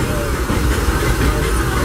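Disneyland Railroad train rolling along behind steam locomotive Ernest S. Marsh #4, a steady, loud, close rumble and hiss of the running train with no pause.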